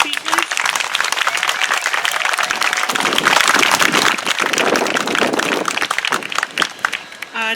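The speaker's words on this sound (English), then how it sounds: "Let's give another round of applause for our speakers" Sustained applause and cheering from a crowd at an outdoor George Floyd justice rally in Soledad, California, dense and loud for several seconds, with a brief voice near the start.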